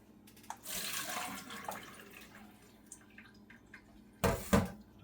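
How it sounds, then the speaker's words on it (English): Water drained from a batch of fresh blueberries, a gentle running and splashing wash that swells briefly early on and returns in a louder, closer gush near the end, with no talking. "We're going to drain the blueberries."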